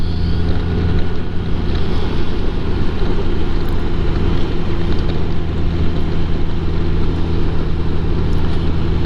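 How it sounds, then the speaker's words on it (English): Chilly wind gusts across a lake on a cold 52-degree day, a constant broadband roar buffeting the microphone with no voices. "The wind is coming from that way, and it's making this 52 degrees feel even colder."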